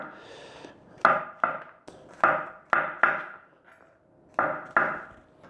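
A knife chops champignon mushrooms on a cutting board in a series of crisp, irregular taps, some single and some in quick pairs, close and fairly quiet.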